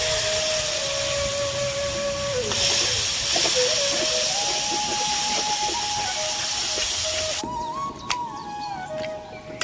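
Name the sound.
water added to hot pan, hissing, Bengali fish curry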